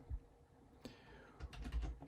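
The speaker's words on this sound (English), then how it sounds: "Mouse double clicking all over the gaff again" A computer mouse being clicked repeatedly during 3D modelling work in Cinema 4D, the short, crisp taps coming close and quiet in a few uneven bursts with no talking.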